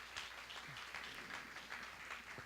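Church congregation applauding during a worship service, a faint, steady patter of many hands clapping that continues evenly for a couple of seconds.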